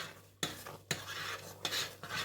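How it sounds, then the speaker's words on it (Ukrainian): Spoon stirring eggs into a homemade hard cheese mixture in a pot, several scraping strokes against the metal, close and fairly quiet. "Тепер все це гарно перемішуємо."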